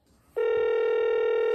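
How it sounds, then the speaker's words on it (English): A telephone rings out through a pay-phone conference call line, one steady loud electronic ring tone starting after a brief quiet moment and holding to the end, close and clear with no talk over it. "Yeah, it's ringing now."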